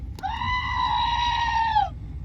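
A screaming goat sound effect plays once near a duck, a single loud, sustained, strained bleat lasting under two seconds with a sharp start and a drooping finish, alone with no talk.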